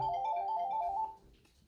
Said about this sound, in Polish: o, ktoś tu dzwoni.